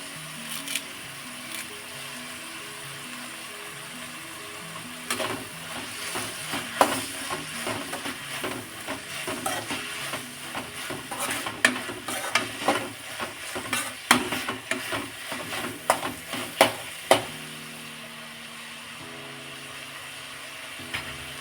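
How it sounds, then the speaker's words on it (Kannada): Curry leaves sizzle in hot oil for tomato chitranna: a quiet crackle at first, then bursts of spattering frying and repeated scraping stirs against the pan, fairly loud and close. "ನಾನು ಇವಾಗ ಕರಿಬೇವು ಸೇರಿಸ್ತಾ ಇದ್ದೀನಿ"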